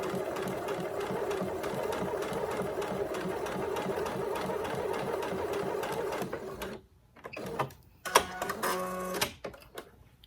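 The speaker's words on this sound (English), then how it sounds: "I am just going to simply stitch right straight down that chalk line that I put on it." A sewing machine stitches a quilt block fitted with a 1/4-inch foot, running a steady, fast mechanical chatter for several seconds before stopping, followed by a few clicks and handling noises.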